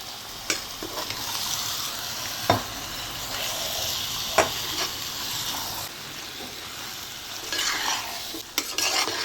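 Washed mutton sizzles with fried masala in a pan, a steady close hiss broken by a few sharp spatula knocks and scrapes as the meat is stirred, with no voices.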